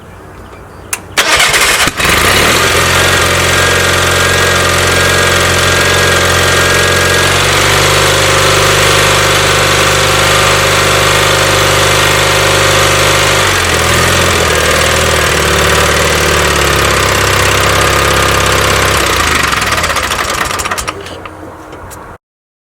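Old engine, likely on a farm tractor, cranks, catches and runs loud and close for about twenty seconds, its steady chugging shifting pitch as it settles, then cuts off abruptly.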